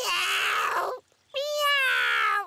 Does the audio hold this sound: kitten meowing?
yes